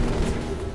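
A very short, dense burst of gunfire from the action role-playing game Final Fantasy XV, loud and close, with no talk.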